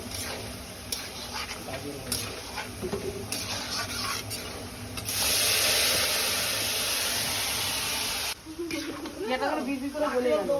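Carrots frying lightly in a pan for a sweet Bengali carrot fry, a steady sizzle that swells into a loud hiss midway, with scattered stirring clinks and a voice talking over the cooking.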